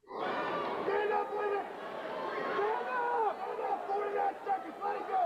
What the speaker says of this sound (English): Now, you can hear, of course, we're in the Harrison County fan section.